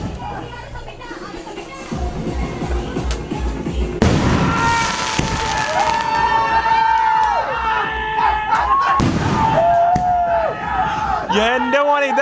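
Firecrackers and fireworks set off by Brazil football fans, sharp bangs and crackling bursts followed by whistling, screeching rockets, loud and close, with a crowd shouting and people talking throughout.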